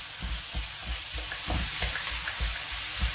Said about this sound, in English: In goes the lamb. And you fry it